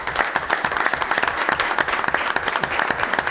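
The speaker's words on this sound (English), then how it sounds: "I just want to give you guys a round of applause because you were fantastic" Audience applause for theater performers at a school board meeting, a dense burst of clapping from a room full of people that carries evenly through the short stretch with no voices over it.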